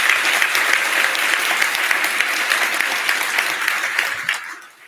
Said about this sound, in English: Let's kick things off with a big round of applause for Cristiano